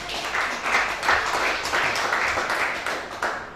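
Congregation clapping to acclaim God at a prayer vigil, a sustained, fairly loud wash of many hands clapping with no clear gaps.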